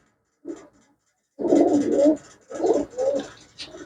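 Pure-bloodline pigeons with white eyes and red heads coo close by in a few soft, throaty bursts, separated by short pauses, with no talking.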